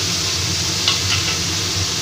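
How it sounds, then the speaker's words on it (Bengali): Vegetables with turmeric and chopped green chilli frying in a pan for a vegetable stew, a steady close sizzle with light stirring scrapes throughout and no talking. "আর একটু হলুদের গুঁড়ো দিয়ে দিচ্ছি দিয়ে আমি এগুলোকে ভালো করে একটু ভেজে নিতে"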